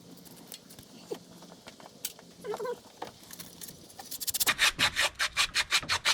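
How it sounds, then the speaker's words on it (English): Metal scraper working corrosion off a radiator outlet on a 1991 Toyota Tercel, faint scratching at first, then a loud, rhythmic series of close rasping strokes. "There's a lot of corrosion. You can scrape it and then later on sandpaper it."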